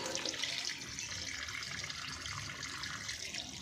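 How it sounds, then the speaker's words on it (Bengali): Raw chicken pieces washed under a running kitchen tap, a steady close rush and splash of water with faint clatter, continuous throughout and without speech. "চিকেনগুলো এখন ভালো করে ধোবো ধুয়ে নেবো"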